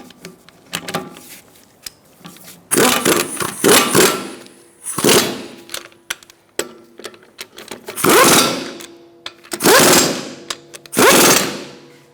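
An impact wrench tightening the wheel lug nuts on a 2012-2019 Fiat 500 in a crisscross pattern, with loud repeated bursts of rattling hammering separated by short pauses and brief clicks, close up.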